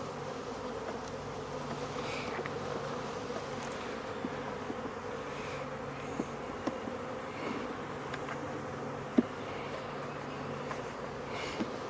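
Honeybees buzzing steadily at an opened hive one week after a split, a continuous dense hum close by with a few faint knocks from frames being handled.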